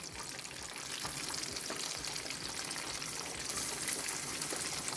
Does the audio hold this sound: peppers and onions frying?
yes